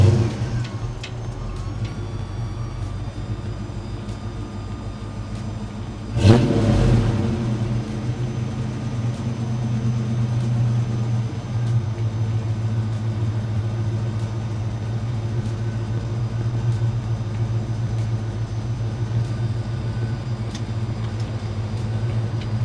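A 1990 Ford Mustang LX engine rumbles steadily close by, a sharp rev burst surging partway through before settling into a sustained low drone while driving.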